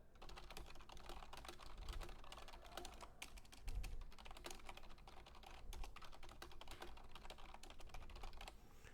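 Typing an email on a computer keyboard, with fast, continuous clicking of keys heard close and fairly quiet, with no talk.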